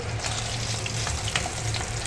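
Paneer cubes fry in oil over medium-low flame, a steady close sizzle and bubbling crackle running throughout, with no one talking.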